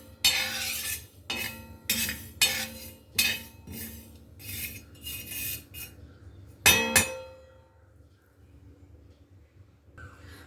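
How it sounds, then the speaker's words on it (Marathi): Fennel, fenugreek and mustard seeds are dry-roasted in a pan, stirred in a quick series of close scraping strokes with a sharp clink near the end, after which things fall mostly quiet. "बडीशेप मेथ्या आणि मोहरी भाजून झालेले"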